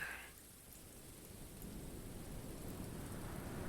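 Rain and thunder from the video game Book of Hours: a low rumbling roll of thunder under a steady wash of falling rain that holds throughout, a brief brighter tone at the very start.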